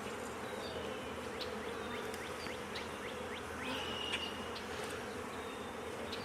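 A steady, dense buzzing of many honey bees fills the air up close, with individual bees zipping by now and then.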